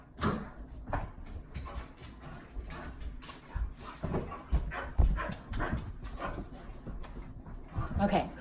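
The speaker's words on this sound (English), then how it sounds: "the dog started wrestling right underneath here and started causing a problem" Dogs scuffle and wrestle indoors, a loose run of thumps, scrabbling and short whimpers and yips, fairly quiet and close, with some speech mixed in.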